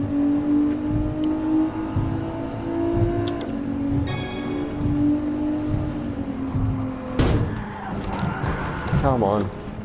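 A Nissan GT-R engine hums in Gran Turismo Sport while the car threads through traffic on the Tokyo Expressway, a steady drone under frequent talking, with a sharper burst of revving near the end.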